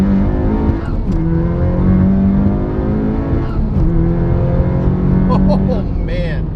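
A project car's engine accelerates hard in the same session as an S2000, loud and continuous, with rising revs through a couple of gear shifts over its full length and a brief squeal-like whine near the end.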